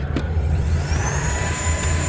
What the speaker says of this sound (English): I will vacuum it just ever so slightly.